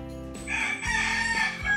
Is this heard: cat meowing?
no